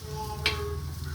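White onions sizzle in a pan, a soft steady frying hiss with one brief stirring scrape partway through.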